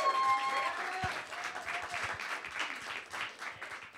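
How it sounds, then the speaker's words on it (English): Audience applause at a small coffee house concert venue, a steady moderate round of clapping with a few whoops, heard throughout with no talking. "Let's go ahead and give them a round of applause."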